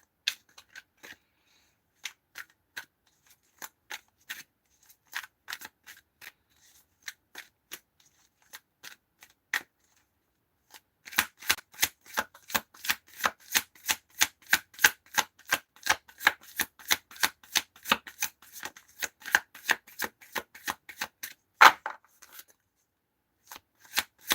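Tarot cards shuffled by hand close up: sparse snapping flicks at first, then a long, rapid, evenly rhythmic run of crisp card slaps and riffles, with no talking.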